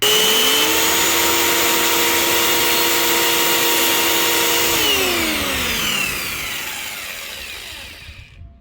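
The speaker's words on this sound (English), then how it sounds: "this is where we're going to go ahead and cut it with our saw" A hand saw cuts through a wooden dowel rod clamped to a table, giving a steady, loud, continuous rasp that fades away over the last couple of seconds.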